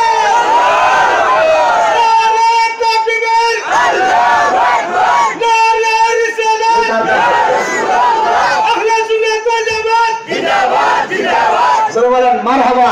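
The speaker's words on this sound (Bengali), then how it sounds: "তোকে একটা জোরে তাকবীর দিবা জোরে" A large crowd at a Bengali Islamic waz sermon shouts a loud takbir in unison, repeated surges of massed voices rising and falling across the clip with no quiet gaps, close and forceful.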